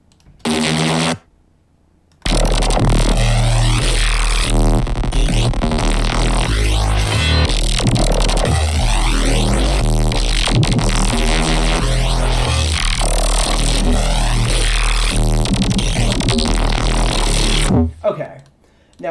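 A synthesized Reese bass drones thick and detuned, loud and up front, with a wobbling, phasing low end that runs steadily for most of the stretch after a short gap.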